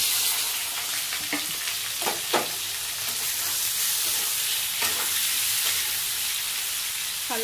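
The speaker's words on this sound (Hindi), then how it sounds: "पनीर को अब तेल में फ्राई कर लेंगे।" Paneer frying in oil makes a loud, continuous sizzle up close, broken by a few sharp scrapes and clinks of stirring, and nobody speaks.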